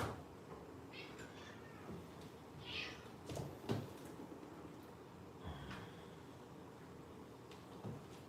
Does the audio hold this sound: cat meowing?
yes